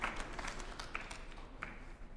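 A crowd at a women's singles semifinal of the 2011 US Table Tennis Championship claps steadily and faintly, a distant patter of applause with a few sharper claps on top and no clear talk.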